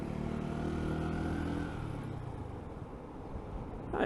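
A car engine runs in third gear while driving, a steady mid-pitched hum that fades and eases off after about two seconds, then rises slightly toward the end.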